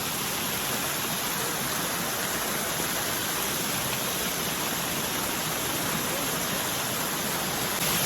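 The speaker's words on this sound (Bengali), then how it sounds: "এই যে নেমে গেলাম জাকুজিতে, ন্যাচারাল জাকুজি।" Hot water rushes steadily through a natural hot spring pool used as a jacuzzi, a continuous broadband gush that stays close and loud for the whole stretch, with no voices over it.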